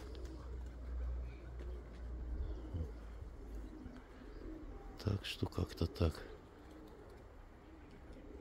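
Pigeons coo near a rooftop dovecote, soft and low against a constant outdoor background. Someone talks over them, and a short run of rustling or flapping bursts follows.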